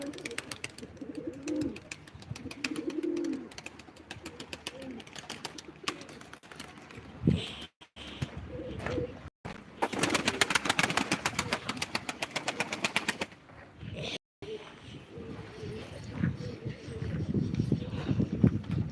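Pigeons coo softly amid fluttering and shuffling at a live pigeon auction, with people talking nearby and occasional clattering noises.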